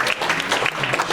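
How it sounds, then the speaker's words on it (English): Audience applause at a real estate office sales meeting, a steady dense patter of many hands clapping close by for about a second, with no talk over it. "Let's give Susan a round of applause."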